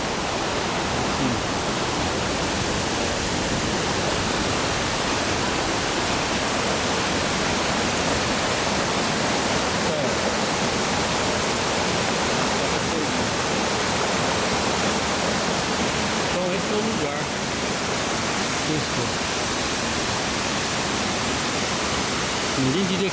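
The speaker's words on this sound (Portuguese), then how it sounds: "Duas cachoeiras vendo, caindo num poço verde e depois despencando naquela outra cachoeirinha que eu vou mostrar para vocês aqui." Two waterfalls pouring into a green pool, a steady loud broadband rush of falling water filling the whole scene without pause.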